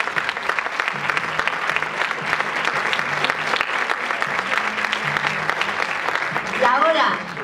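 Audience applauding at a women's council event, continuous dense clapping from a crowd for several seconds while a low voice speaks beneath it near the end.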